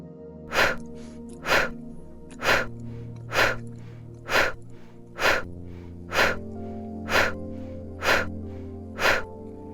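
Ten rapid breaths, each a quick inhale through the nose followed by a sharp, forceful exhale through the mouth, evenly spaced about once a second during a morning breathing exercise, close and clear with no talking.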